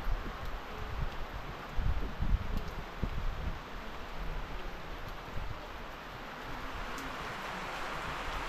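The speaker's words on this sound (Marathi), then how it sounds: "पाऊस सुरू झालाय।" Rain beginning to fall in Sangti Valley near Dirang, Arunachal Pradesh, a soft steady patter mixed with rustling and wind noise on the microphone, continuous and fairly faint with no talking.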